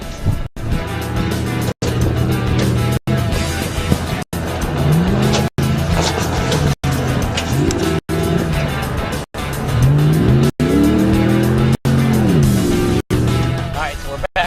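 A Dodge Ram or Ford Raptor truck in four-wheel drive climbing a sandy hill off-road, its loud engine droning and revving with rising and falling pitch, briefly interrupted by repeated short dropouts while someone talks over it.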